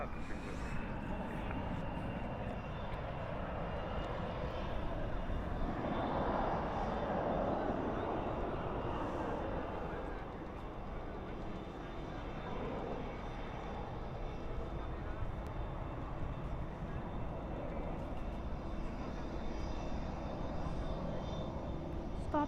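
A Delta Airlines airplane at night at Dallas/Fort Worth airport, a steady broad engine roar swelling and holding for the whole stretch, with talk faintly underneath.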